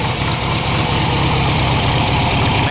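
A 1969 VW Baja engine with dual Kadron/Solex carburetors runs steadily close by. The idle is loud and continuous with a low rumble and no breaks.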